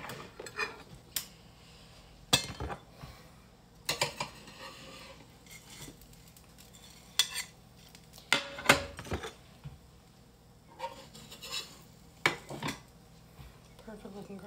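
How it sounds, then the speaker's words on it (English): Plates and cutlery clink and clatter while a grilled cheese dinner is plated, with sharp, scattered knocks and scrapes coming every second or two, close by and fairly quiet, with a person talking at times. "All right, we are plating."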